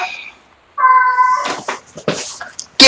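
A house cat meows loudly and close up, giving a few drawn-out, strained meows after a short fainter one, ending in an abrupt loud burst.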